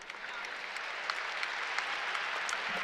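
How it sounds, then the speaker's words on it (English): Steady crowd applause at a Marshall at Western Kentucky game, dense sustained clapping from many hands, filling the whole stretch with no talk over it. "So a round of applause as she has helped to at least a seated position."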